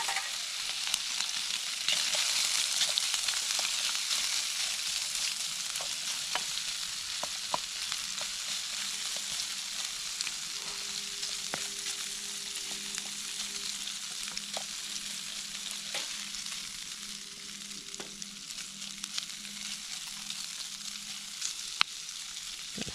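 SPAM slices frying in an oiled pan over a campfire, giving a steady close sizzle and crackle that runs throughout with occasional sharp pops.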